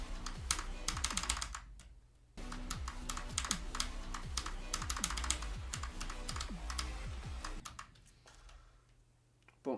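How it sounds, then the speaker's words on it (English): Rapid, steady keystrokes on a creamy-sounding mechanical keyboard, close and clear. The clicks run in dense bursts with a short pause near the start and a quieter stretch near the end. "Bought myself a creamy keyboard as well. It sounds so good and looks even better."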